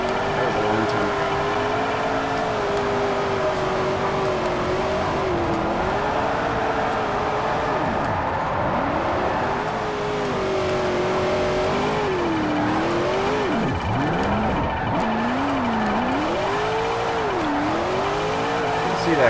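A Corvette-engined drift car in the Forza 4 racing game revs hard and steadily, engine pitch wavering up and down while tires squeal continuously, loud and close throughout.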